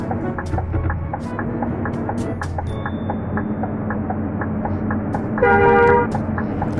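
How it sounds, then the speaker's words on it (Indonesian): Truck horn from a driving video game featuring a Scania K410IB bus, one loud half-second honk sounding over steady engine rumble and faint rhythmic clicking. "Kasih klakson, takutnya nanti malah pada ngambil ke kanan ya."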